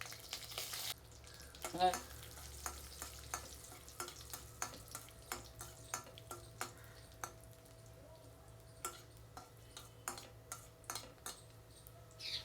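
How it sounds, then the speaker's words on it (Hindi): Dry fruits fry in ghee with a soft, steady sizzle, punctuated by a regular series of spoon clicks and stirring taps against the pan, close by, with a short word spoken early on. "इधर मैं घी डालती हूँ ड्राई फ्रूट तलने के लिए।"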